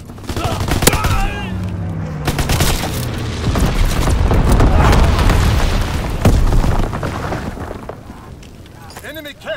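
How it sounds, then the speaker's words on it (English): Incendiary bombs burst in a war video game as a series of heavy booms and crackling blasts, layered with gunfire and rumbling battle noise that swells and fades over several seconds. "Incendiary bombs incoming!"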